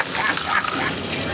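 Wastewater gushes hard and continuously inside a submarine, a loud close splashing roar with no pauses.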